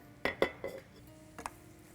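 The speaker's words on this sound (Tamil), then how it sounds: "இந்த மூடி எடுத்துடுறேன்" A cooking pot lid is lifted off a pot of rice-and-lentil kozhukattai dumplings steaming in a home kitchen: a few sharp metallic clinks and clatters in quick succession, then a softer knock, with no talking.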